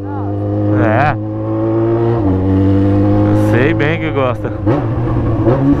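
A loud Yamaha XJ6 motorcycle revs close by, with its engine note climbing and falling in several sharp bursts over a steady idle while people talk.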